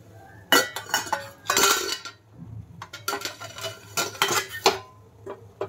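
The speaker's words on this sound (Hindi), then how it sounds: "ग्लास को हमने ले लिया है, इसमें छन्नी लगा देंगे" Metal strainer set onto a drinking glass in a kitchen, making a few sharp clinks and scrapes in separate bursts with quiet gaps between them, close up and without talk.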